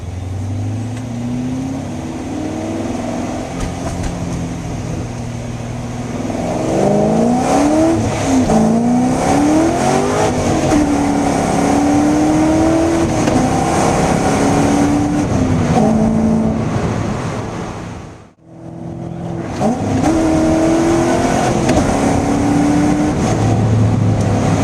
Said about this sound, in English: I'm going to do a quick run through the gears.